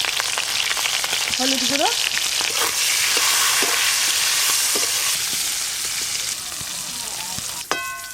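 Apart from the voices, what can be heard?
frying hilsa fish heads in a pan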